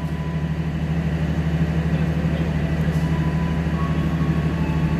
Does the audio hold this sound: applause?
no